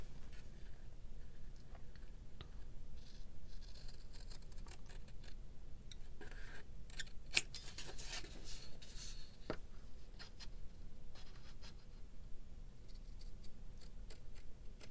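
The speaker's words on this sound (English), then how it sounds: "I'm going to trim it up really quick." Small scissors trim die-cut paper lace for a card cover, producing faint, close snips and light crisp clicks scattered over a quiet background, with no talking.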